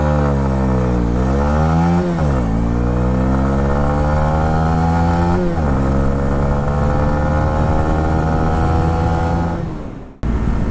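2018 Honda CB125R motorcycle accelerating at full throttle from a standstill, its loud engine climbing in pitch through several gear changes with brief dips between, then holding a high steady drone before cutting off abruptly.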